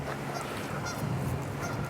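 Geese honk at a distance, a few soft calls over a low steady hum.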